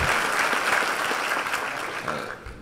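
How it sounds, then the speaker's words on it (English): Audience applause at a panel on music, criminal justice and racial equality, a full round of clapping that stays strong and then gradually thins toward the end. "Give a round of applause."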